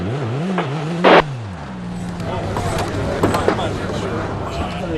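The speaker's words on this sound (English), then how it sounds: "There's a rally car. It's completely on its bottom, and all the wheels are spinning." Rally car at the 2002 Safari Rally, grounded on its underside with all wheels spinning, a strained engine note rising and falling under someone talking, with a brief sharp burst early on.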